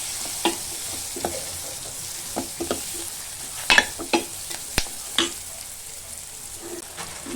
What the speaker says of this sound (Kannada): ಈರುಳ್ಳಿ ಇದೆರಡು ಸ್ವಲ್ಪ ಎಣ್ಣೆ ಒಳಗೆ ಬೇಯಲಿ, ಆಮೇಲೆ ಟೊಮೆಟೊ ಹಾಕೋತೀನಿ.